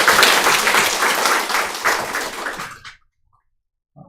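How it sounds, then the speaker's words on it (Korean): A church congregation applauds, a dense burst of many hands clapping together for nearly three seconds before cutting off into silence. "큰 박수로"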